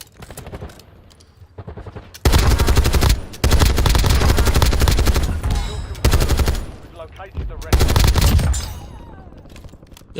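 Loud, close assault rifle fire in Warzone comes in several long automatic bursts separated by short pauses.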